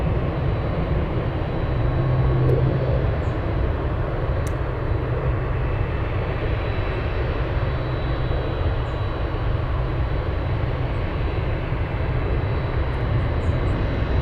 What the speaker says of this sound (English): Who's taking off? DC3. That's who.